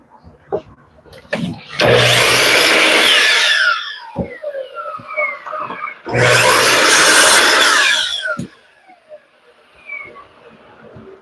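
A power saw cuts a 3/4 inch plywood piece shorter in two loud, harsh bursts of about two seconds each, separated by quieter clatter and handling noises in a workshop.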